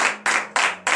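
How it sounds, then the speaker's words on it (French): A congregation at a morning prayer service in Benin claps together in acclamation, four sharp, even, unison claps in a steady rhythm, close and loud. "Donnez l'acclamation à sa parole."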